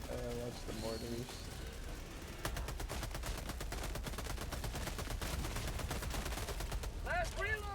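Rapid bursts of gunfire rattle through a video game battle with mortars, dense and continuous at mid distance, while voices talk over the shooting.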